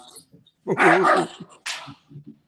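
A dog indoors barks and yips in an agitated burst, close and fairly loud, with brief whimpering sounds around the barks.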